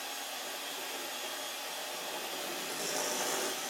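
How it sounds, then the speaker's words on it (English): Batter being blended with an electric hand mixer, a steady close whirring buzz throughout with a slight rise in pitch and intensity toward the end, no talking. "blend it together with a hand mixer"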